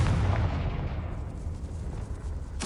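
A fiery Confringo spell blast in the Hogwarts Legacy video game makes a loud, dense explosive roar that swells at once and slowly fades over about two seconds. A fresh sharp burst comes in right at the end.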